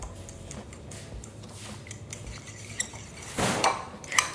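Brookie cookie dough with brown sugar is mixed in a bowl, giving quiet close clinks and taps of a utensil against the bowl, with a louder scraping rush near the end.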